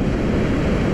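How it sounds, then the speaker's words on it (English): Wind blowing on a beach with jellyfish washed up, a dense, steady low roar of gusts and surf buffeting the microphone close up, with no voices. "the wind is starting to pick up a little bit"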